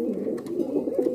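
A pair of black Bombay pigeons sitting on eggs give a low, continuous rolling coo, close and clear with no other sounds around it.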